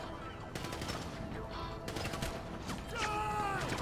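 Gunfire in the GTA V video game, with bursts of rapid shots and sharp cracks spread across the moment, loud and busy, layered over other game sounds.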